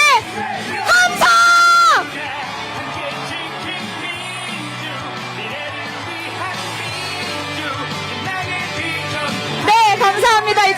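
Political rally crowd for Lee Jae-myung in Gangwon roars with sustained cheering, yelling and whoops, loud and continuous, with a few sharper shouted bursts at the start and end.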